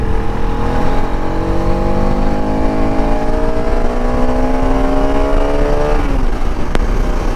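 A Bajaj Pulsar RS200 motorcycle accelerates hard on a road with its engine note climbing steadily through the gears, then drops sharply at a shift near the end. It is loud and close, likely from the rider's position, with wind rush and no talking.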